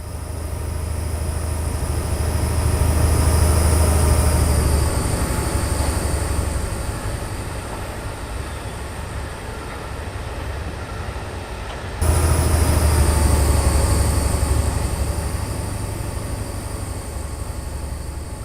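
An HST train passing in a Train Simulator game, with a steady rumbling roar and a constant high whine that swell and fade, then surge again partway through. It is loud and continuous, with no voices.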